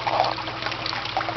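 Water in an aquaponics filtration system flows and trickles steadily at close range, a continuous splashing wash with no talking.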